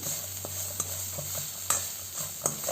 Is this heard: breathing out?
no